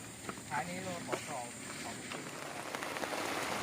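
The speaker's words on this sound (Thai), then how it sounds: "มาแล้วครับนะนะพายุฝนครับ โอ้โหพายุลูกใหญ่เลยครับ" Heavy rain pours down during a storm at a fishing pond, a steady broadband hiss with wind noise, while someone speaks over it near the start.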